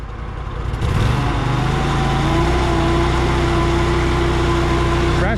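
A Walker riding mower's engine revs up as the throttle is pushed forward, climbing from a low idle into a steady, loud, high droning whine that holds close and constant.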